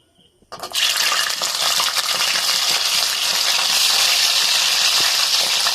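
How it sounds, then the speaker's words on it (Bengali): Marinated hilsa fish pieces lowered into hot oil for light shallow frying on low flame, a sudden loud burst of sizzling after a quiet start that settles into a dense, steady crackle close by. "এবার ম্যারিনেট করে রাখা মাছগুলো আমরা হালকা ফ্লেমে ভাজবো, একদম ডিপ ফ্রাই করব না, হালকা ভাজবো।"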